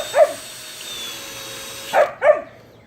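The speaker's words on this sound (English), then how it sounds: "Let me pause this so I can get the dog quiet." A dog barks three times, one sharp bark near the start and then a close pair near the end, loud and close by during a kayak modification session involving power tools, with no talking.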